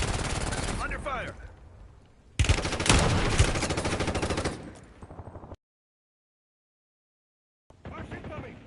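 Heavy gunfire in the Call of Duty Warzone video game: loud, dense bursts of automatic shots, then a brief silence before another burst starts.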